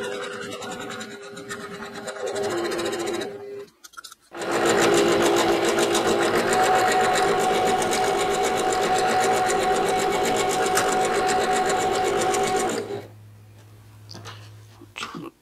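A sewing machine chain-pieces pinned quilt strips for a Halloween checkers game quilt, running in steady continuous bursts with a short pause near four seconds, loud and close, then a quieter stretch at the end.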